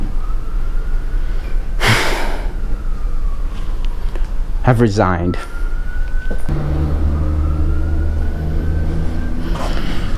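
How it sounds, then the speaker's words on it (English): An ambulance siren wails past outdoors, its rising and falling tone carrying steadily underneath someone talking, with brief breathy noises in between. "Another ambulance."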